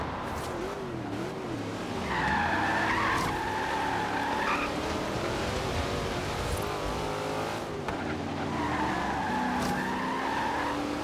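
A Dodge Dart skids in the racing game Forza Horizon 4, its tires squealing in long, wavering bursts over a steady, droning engine, loud and continuous with no talk.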